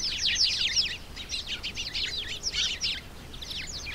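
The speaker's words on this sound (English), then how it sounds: "A flock of noisy, cheeping sparrows is full of chatter and bustle." A noisy flock of sparrows cheeps and chatters continuously, with short, sharp calls tumbling over one another at close range and only brief gaps.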